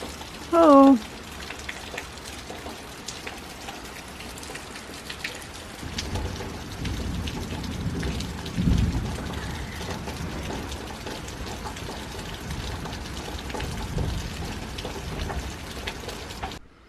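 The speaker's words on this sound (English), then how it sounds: "There's a big storm coming." Steady rain patters outdoors as a storm approaches, with low rumbles of thunder rolling in midway and building in waves; a brief tonal beep sounds near the start.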